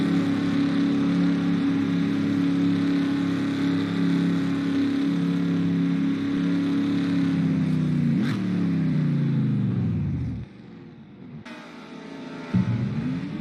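Race car engines drone loudly and steadily through a green-flag pit stop, then one pitch swoops and the sound cuts out, leaving a quieter stretch before engine noise briefly returns.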